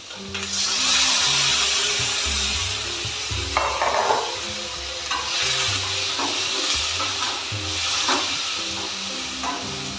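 Large onions and tomato sautéing in a pan for chutney, a steady sizzle with a few stirring scrapes, music faintly underneath.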